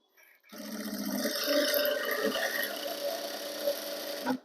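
A sewing machine runs steadily, stitching a seam on a six-part cotton underskirt (petticoat), loud and close with a busy mechanical whir that holds for about four seconds before stopping.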